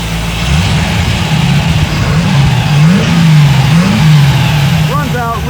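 A 1930s hot rod with shorty headers, Edelbrock parts and a Weber carburetor revs loudly up close, its engine pitch swelling and dropping in several blips above a rumbling idle.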